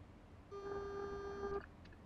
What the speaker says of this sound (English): Look for the beep.